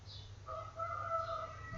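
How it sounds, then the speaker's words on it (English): A rooster crows once, a clear drawn-out call that is fairly faint and set against quiet background hiss. "Rooster, yes"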